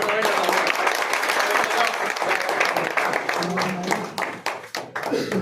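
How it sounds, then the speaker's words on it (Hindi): Applause from players and guests during a carrom tournament trophy presentation, many hands clapping in a lively wash with some distinct individual claps and talking voices underneath, tapering unevenly toward the end. "ताली जोरदार हो भाई"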